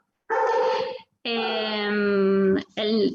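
A small pet dog barks and whimpers in a home during an online anatomy lecture, with three bursts of high tonal yelps and whines, loud and close, separated by brief pauses.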